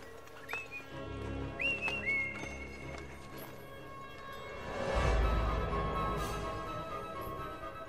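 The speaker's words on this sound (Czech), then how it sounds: "Připravte se, umím ho přilákat pískáním." A person whistles a few short, rising notes to lure a reindeer, the calls clustered early and standing out against a steady low background rumble.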